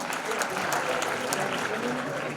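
Audience applause at a Dhakad community talent award ceremony in Jhalawar, a steady dense wash of clapping from a large crowd throughout, loud and continuous with faint voices mixed in.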